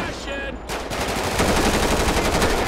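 Rapid bursts of automatic gunfire in GTA 5 during a bank robbery heist mission rattle continuously and loudly, dense and sustained, with a brief quieter electronic tone at the start.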